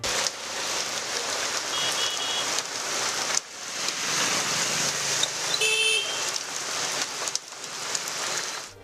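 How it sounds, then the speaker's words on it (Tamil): Heavy rain pours steadily over streets in Chennai's Valasaravakkam and Ashok Nagar area, a dense continuous hiss, with a passing car and a brief horn toot faintly audible beneath the downpour. "வளசரவாக்கம், அசோக் நகர் உள்ளிட்ட பகுதிகளில் கனமழை பெய்தது"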